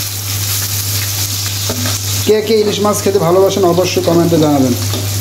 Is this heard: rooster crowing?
no